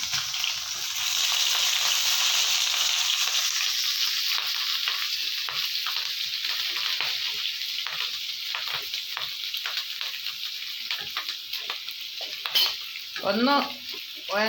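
Chopped ginger and small green chillies sizzle in a hot pan for soya manchurian, a loud, dense frying hiss that eases gradually, with a few utensil clinks near the end.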